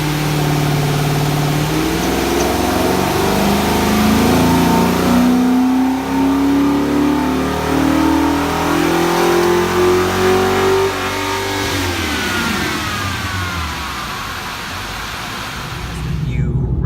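A Dodge Scat Pack's 5.7-liter V8 with a Mopar Stage 1 tune revs hard on a chassis dyno, its loud engine note climbing steadily through the gears for about twelve seconds before falling back to a lower rumble.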